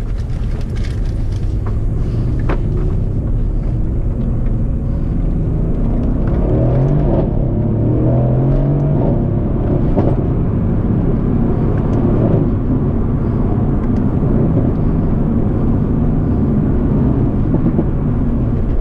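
A Mercedes C63 AMG climbing a winding road in drive, its engine a deep continuous rumble with slight rises in revs, heard close from inside the car, with no talking.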